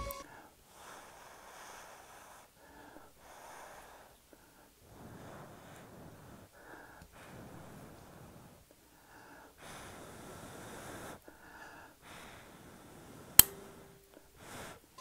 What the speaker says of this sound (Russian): Это, вот этот вот щелчок, который вы услышали, это сработал электромагнит.